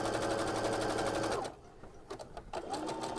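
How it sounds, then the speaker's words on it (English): A sewing machine with a cording foot stitches over cord in a fast, rapid-fire whir, pauses briefly with a few soft clicks, then starts stitching again. "And sew right over it."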